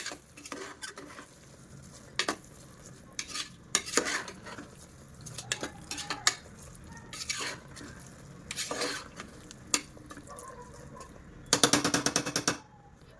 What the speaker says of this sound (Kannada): ಚೆನ್ನಾಗಿ ಮಸಾಲ ಜೊತೆ ಇದನ್ನು ಮಿಕ್ಸ್ ಮಾಡ್ಕೋಬೇಕು